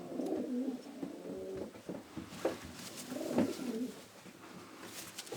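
Racing pigeons of the Janssen line coo softly in a loft, with several low, throaty, repeated calls rising and falling close by against faint background noise.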